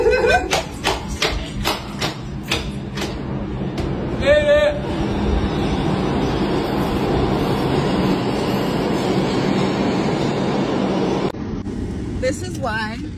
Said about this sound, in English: Subway experience.